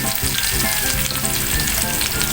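Onions fry in a pan for squid adobo, a dense, loud, continuous sizzle close up with a faint stirring rustle underneath, and no one speaks.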